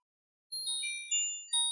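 A Nokia 130 (TA-1017) mobile phone powering on plays a short, faint electronic startup jingle of several bright, chiming tones that begin half a second in after silence.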